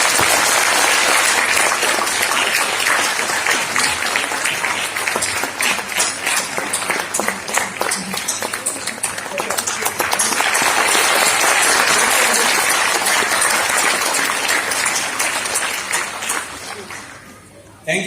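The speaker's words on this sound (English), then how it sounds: "let us clap for him" A conference audience breaks into sustained applause, dense and loud, with claps holding steady for many seconds before tapering off toward the end, a murmur of voices mixed into the crowd.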